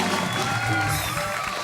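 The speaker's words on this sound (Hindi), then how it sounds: "जोरदार तालियां।" A television comedy show studio audience applauds and cheers, a steady wash of clapping with whoops, loud and continuous throughout.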